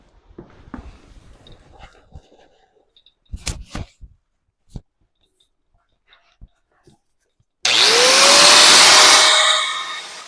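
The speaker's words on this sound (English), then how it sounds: "we're going to take just a little bit more off with the cutoff wheel" A cutoff wheel slices into car body metal during a trunk floor replacement, a loud sustained high whine and grinding burst near the end, preceded by scattered clicks and knocks of handling tools.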